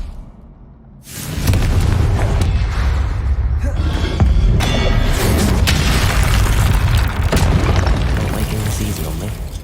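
A Confringo fire spell explodes in Hogwarts Legacy, opening with a sudden deep boom after a quiet second, then a loud, sustained rumbling blast with further crackling impacts layered on top.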